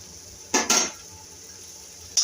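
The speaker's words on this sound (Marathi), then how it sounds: "तर आता त्यामध्ये हे भिजवलेले चुरमुरे घालायचे आहेत आपल्याला" Metal clinks and scrapes sound close by as soaked puffed rice is added to a pan of oil-sauteed ingredients and mixed with a utensil, in two quick bursts followed by another sharp scrape, with a faint sizzle underneath.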